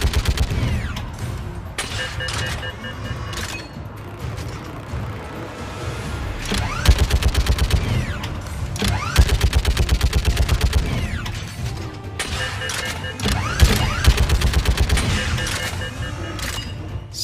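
Rapid gunfire from a weapon in Mass Effect 3, bursts of fast repeating shots over a dense, loud backdrop of game combat noise and machinery.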